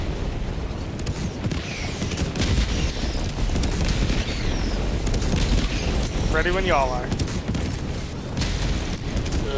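Airstrike and orbital shell explosions in Helldivers 2, a continuous barrage of booms and rumbling blasts with players talking over the bombardment.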